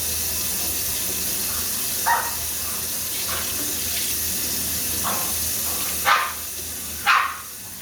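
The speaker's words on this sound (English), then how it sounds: "Let me go put these dogs in, because they're not gonna drive me insane." Several dogs bark in short, sharp bursts at a distance in a home kitchen during dinner preparation, four or five separate barks spread out over a steady background hum, with no voices.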